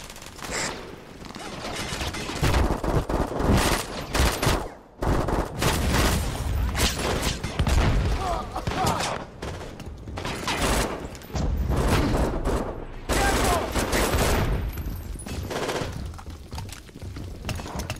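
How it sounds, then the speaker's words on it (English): Gunfire in the video game Brink: dense bursts of automatic rifle fire and loud shots crowding together, with brief lulls between, over game battle noise. "Stop firing at me!"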